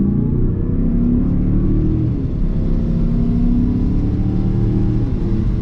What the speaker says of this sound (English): Let's do one acceleration here